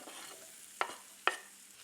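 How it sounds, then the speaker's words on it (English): Mushrooms and onions cook in oil in a pan, with a faint steady sizzle and two sharp scraping stirs close by. "You got your mushrooms and onions here. You're going to drop those in."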